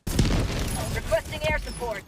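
Explosions in the video game Helldivers 2 boom and burst in loud, rapid succession, mixed with gunfire-like pops, while several players talk excitedly over them throughout.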